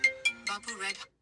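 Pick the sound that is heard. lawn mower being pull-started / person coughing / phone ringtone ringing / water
phone ringtone ringing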